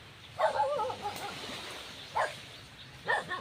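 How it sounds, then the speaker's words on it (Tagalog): A dog gives three separate barks, the first a short cluster and two single yips later, moderately near against quiet outdoor background. "Mayroon pang aso mga idol."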